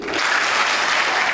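At a middle school band end-of-year concert, the audience claps for a student award in a dense, steady burst of applause that fills the room, with no voices over it.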